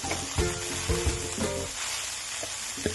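Grated carrots roasting in a pan for halwa, sizzling steadily and close, with a few soft stirring knocks and scrapes breaking through the hiss.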